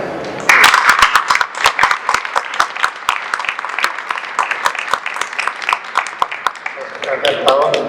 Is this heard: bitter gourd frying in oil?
no